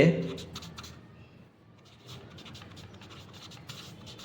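A pen writes measurements on paper while drafting a men's shirt pattern, producing a run of soft close scratching strokes. Someone speaks over the writing throughout.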